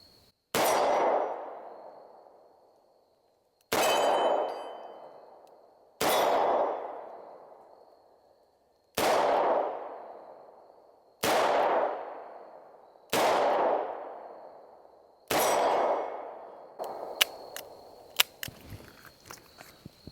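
Six loud, booming .357 shots from a Taurus Tracker 692 revolver ring out at an outdoor range, spaced a couple of seconds apart, each with a trailing echo, followed by faint clicks and rattles.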